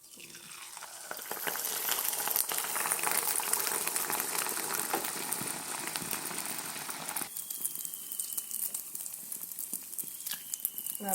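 Neyyappam batter frying in hot coconut oil, a continuous loud hiss and bubbling crackle that swells after the batter goes in, then settles into a steady, lighter sizzle with scattered pops.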